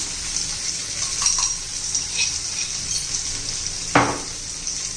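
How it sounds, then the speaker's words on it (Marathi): Crushed cumin and coriander seeds sautéing in oil with green chillies, a steady close sizzle with light stirring and one sharp scrape or clink near the end. "तेही आता तेलामध्ये चांगलं असं परतून घ्यायचे."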